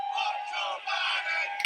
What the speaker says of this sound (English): as you can hear the chants from the crowd